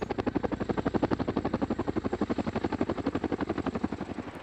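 CH-47 Chinook tandem-rotor helicopter, a loud, rapid, steady whump-whump of rotor blades beating in a regular pulse throughout, with a turbine whine underneath.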